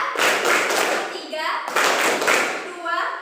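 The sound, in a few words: class clapping hands in rhythm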